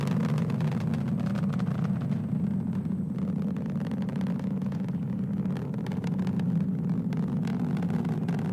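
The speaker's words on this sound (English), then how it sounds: "The BE4 is now throttling down in preparation for SRB burnout." Vulcan Centaur rocket's BE4 engines roaring during ascent toward supersonic speed, a steady, dense low rumble that stays constant and loud throughout with no voices.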